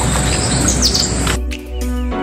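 Birds chirp and tweet in the Maharashtra countryside near Jawhar, beside a road lined with green fields and trees, with steady outdoor ambience and a few short bright calls.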